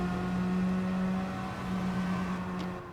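A Gr.4 race car engine on Brands Hatch in Gran Turismo Sport drones at a steady pitch, holding a sustained hum with slight rises and dips and no talk over it.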